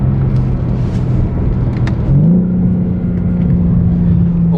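A BMW G82 M4 engine droning steadily with an artificially enhanced engine note, the pitch dipping then rising again midway as revs climb, heard from inside the car at a constant loud level.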